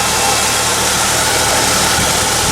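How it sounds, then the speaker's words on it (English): A 1985 Ford Clubwagon XL van engine idles with a loud, steady rumbling drone, a dense even roar with a low pulsing throb and no speech. "I might want to turn this baby on so y'all can hear what it sounds like."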